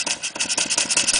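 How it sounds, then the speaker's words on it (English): A Clarkson vertical steam engine running on compressed air, its exhaust chuffing in a steady rapid rhythm of close, loud beats with a rattling mechanical undertone. "you'll notice a difference in the sound of the exhaust as the amount of air is restricted to the engine"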